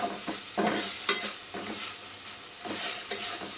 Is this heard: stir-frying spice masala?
yes